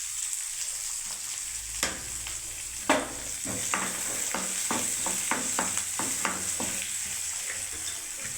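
Chopped onion hits hot oil already holding garam masala and whole cumin, a steady close sizzle with a sharp burst as it lands, then rhythmic scraping stirs every half second over the continuous frying hiss.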